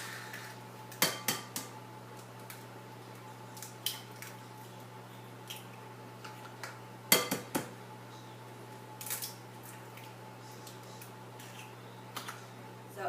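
Sugar and eggs are stirred together in a bowl, with sparse, sharp clicks and taps of a utensil against the bowl over a quiet, steady background hum.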